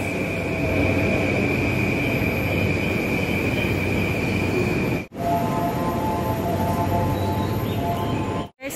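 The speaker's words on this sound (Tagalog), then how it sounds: "Yan na yung tren namin guys." A train arriving at a station in Japan rumbles and hums steadily at close range with a sustained tonal whine, broken by two brief dropouts; no talking.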